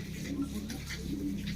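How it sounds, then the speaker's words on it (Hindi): A pigeon, a male of a dub breed kept by a fancier, gives soft low coos, a couple of faint murmuring phrases close by with light background noise. "ये देखो गाइस, ये है जी कबूतर।"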